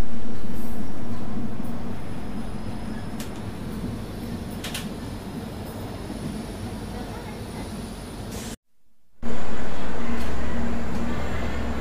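Haripriya Express heard from inside a coach on a trip from Kolhapur to Tirupati: a loud, steady rumble and roar of the running train, broken by a short near-silent gap before the noise returns.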